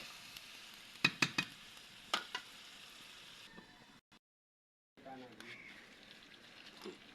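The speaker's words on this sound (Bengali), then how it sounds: "এবার সমস্ত কিছু ভালো মতো কষে নেব, ঢাকা দিয়ে দিয়ে কষবো" Mutton curry sautéing in a covered pan, a soft close sizzle and bubbling broken by sharp spoon or lid clanks, a brief silence, then stirring resumes, with faint talk nearby.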